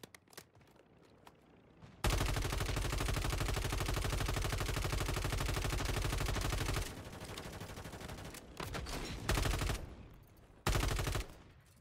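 Video game gunfire in a Call of Duty Warzone Rebirth Island match: a long, loud sustained burst of automatic fire, then further broken bursts and bangs, dense and close.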